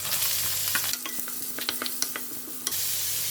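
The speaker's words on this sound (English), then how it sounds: "I'm putting in onions." Onions stirred into hot oil with spices for a tomato rice dish, giving a steady close sizzle with scattered spatula scrapes and taps; no talking.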